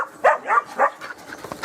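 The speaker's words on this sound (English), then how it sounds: "Mad dogs." Several agitated dogs in farm country barking and yipping at close range, a quick run of sharp barks followed by scattered smaller yelps and whimpers.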